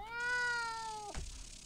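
A cat in the video game Green Project gives a single loud, close meow whose pitch slides downward, ending in a brief clipped drop, with no voices.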